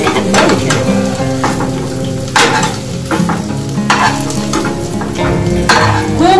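Food fries in a little oil in a pan over a lowered gas flame, giving a steady, close sizzle broken by frequent clattering stirs and scrapes against the pan.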